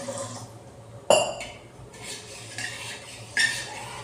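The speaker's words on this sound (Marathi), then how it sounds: "अजून थोडंसं पाणी टाकते कारण काय जास्त वेळ काढवायचं आहे ना आपल्याला" Water is added to a thickening besan mixture in a pot, bringing a sharp metallic clank followed by brief splashy pours and stirring scrapes, close and intermittent, with a further clink near the end.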